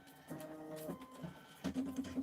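A sewing machine stitching out an embroidery block, heard in two short, quiet mechanical whirring bursts with a brief pause between them.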